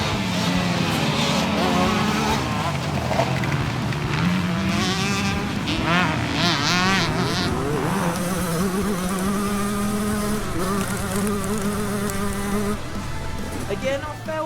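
A 47-year-old 125cc two-stroke motorcycle races around a track with a high, buzzing engine note that climbs and falls steadily through the gears. It is loud and continuous throughout, with other bikes heard in the background.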